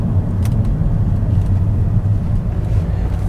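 Cabin sound from inside a rare Japanese 4WD saloon with a CVT automatic gearbox driving over bumpy road: a steady, loud low road and tyre rumble with faint thumps and no talking.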